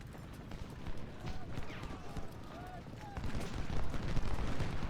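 Musket fire crackles across the First Bull Run battlefield in Ultimate General: Civil War, a steady, close-packed patter of shots amid a rumbling battle din that swells louder toward the end.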